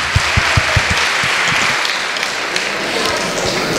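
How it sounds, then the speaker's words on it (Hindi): Audience clapping at a Hindi poetry recital (kavi sammelan), a dense burst of applause sustained throughout, loud and close, with scattered individual claps standing out. "आप लोगों को अच्छा लग रहा है तो एक बार सब तालियां बजाकर बताइए।"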